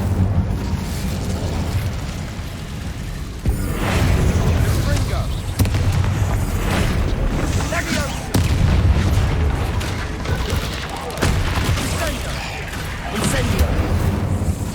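Incendio fire spell casts in Hogwarts Legacy combat: repeated booming, whooshing bursts every second or two over a continuous roar of battle effects, loud and close, with voices talking throughout.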